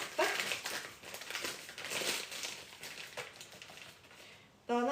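A kilogram paper packet of sugar is tipped out in the kitchen while plum marinade is prepared, giving a steady grainy crinkling hiss with papery rustles, close and fairly loud.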